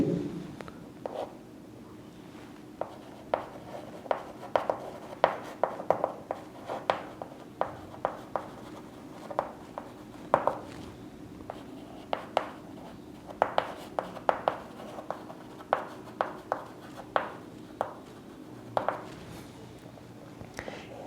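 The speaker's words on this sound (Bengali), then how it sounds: "একটু লিখে দিই" Pen or marker strokes on a board or paper during a geography lesson, a steady run of short scratchy taps and squeaks repeating irregularly over a quiet low room hum, close and fairly soft.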